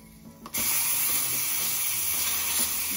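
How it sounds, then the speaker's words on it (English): Steam hisses while vegan turmeric golden milk is being made, a sudden loud broadband hiss that starts abruptly and holds steady to the end, close and with no talking. "I'm not sure why it's steaming like that."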